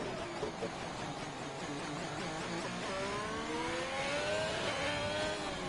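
A Ferrari Formula 1 car from an F1 racing game at the Portugal circuit sweeps past, its high-pitched engine climbing steadily in a continuous rising whine over steady race ambience, loud and close with no talk.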